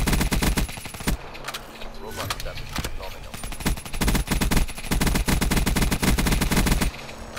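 Rapid automatic gunfire in Black Ops 3 multiplayer rattles in loud, sustained bursts with short gaps, dense and close throughout.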